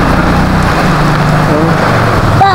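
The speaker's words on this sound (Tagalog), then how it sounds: "Lakas kasi ng ulan, di ko makuha." Heavy rain pours down outdoors on a flooded street during a blackout, a loud constant wash that covers everything, with faint voices underneath.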